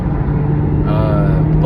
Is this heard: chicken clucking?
no